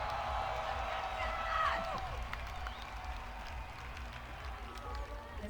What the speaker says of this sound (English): Well, that crowd's pretty excited.